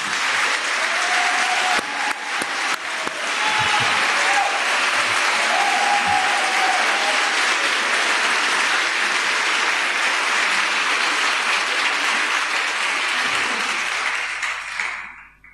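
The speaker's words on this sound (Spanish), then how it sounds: "Quiero que le demos un cariñoso aplauso a Gastón Sublet." Sustained, even applause fills the historic Teatro Condell in Valparaíso, a full house clapping warmly for around fifteen seconds before fading out, with a few voices briefly audible at the start.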